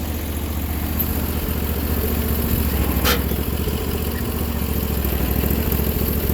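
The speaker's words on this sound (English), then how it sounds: "look, the dune buggy's driving with motor power" A motorized dune buggy drives nearby outdoors, a steady mid-to-low engine drone running throughout with no talk.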